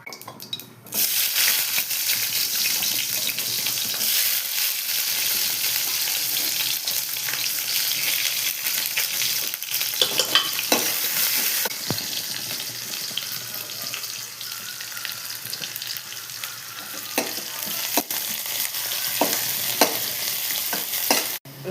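Mustard seeds crackling and sizzling in hot oil for tempering a banana stem kootu, a steady close frying hiss that runs throughout with occasional stirring clinks of a spoon against the pan.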